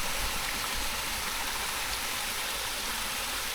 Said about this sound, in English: There's the waterfall